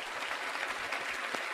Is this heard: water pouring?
no